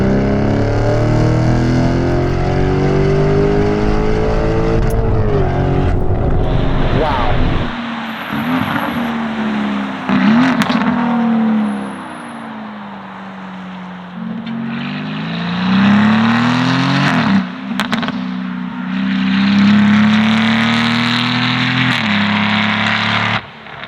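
A Novitec-tuned Lamborghini Urus SE with its V8 engine, in Corsa mode with manual shifting, revs hard and loud, climbing through gears with sharp upshifts and crackling lifts, heard close from inside the car.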